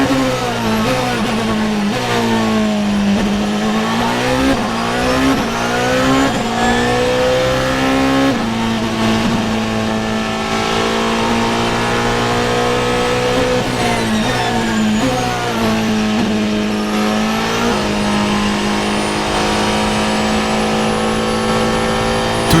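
A Porsche 918 race car accelerates hard, its loud engine note rising and falling through repeated gear changes for over twenty seconds.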